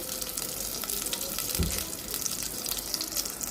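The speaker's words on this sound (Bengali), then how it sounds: "পেঁয়াজটা ভালো করে ভেজে নিব" Chopped onions fry in oil in a wok (kadai), giving a steady, close hiss of bubbling sizzle that runs continuously, with one soft low bump partway through.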